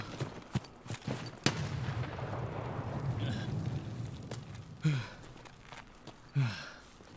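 Gunshots in the shooter game Escape From Tarkov, a few sharp cracks spaced irregularly, some loud and close, others fainter, over quiet ambient game noise.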